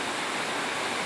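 A river in upper Duale running strong and swollen after several days of rain, heard as a dense, loud, steady rush of water with no gaps and no voices.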